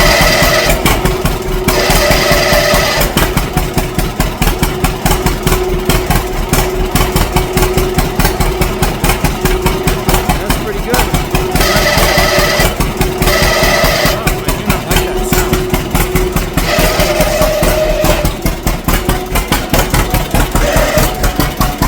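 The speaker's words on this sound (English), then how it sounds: "hopefully you can hear me talking over the sound of the engine" A John Deere A tractor engine runs steadily close up, a loud, continuous, rapid chugging beat with a faint whine riding over it and no voice audible above the noise.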